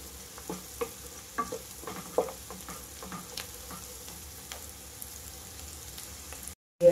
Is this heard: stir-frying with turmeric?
yes